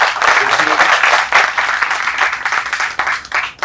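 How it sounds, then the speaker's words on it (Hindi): Audience at a Hindi short-story competition award ceremony clapping loudly, a dense burst of applause that swells and dips over a few seconds, with some voices mixed in. "हमको 400 रचनाकारों के लिए जोरदार ताली बजानी चाहिए"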